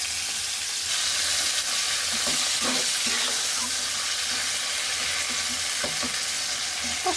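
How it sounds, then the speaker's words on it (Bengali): Marinated chicken fries in hot oil with spices, giving a loud continuous sizzle broken by several stirring scrapes and clatters of a spoon against the pan. "এবার মাখানো চিকেনটা দিয়ে একেবারে দশ মিনিট একদম ভালো করে কষাইতে হবে"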